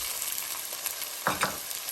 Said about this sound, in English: Now I'll add in chopped tomatoes.